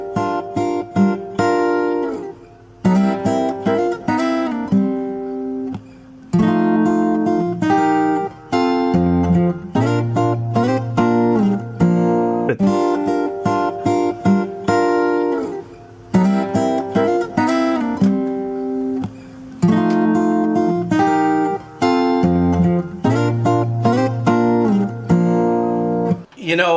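An instrumental cover is played, with dense melodic notes over deep bass swells in a flowing, loud arrangement that continues without pause.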